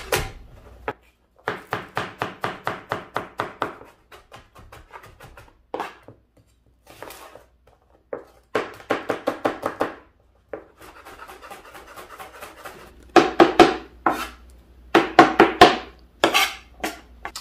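A knife chopping red bell pepper into little pieces on a cutting board, rapid rhythmic taps in several separate bursts with short pauses between, close and crisp.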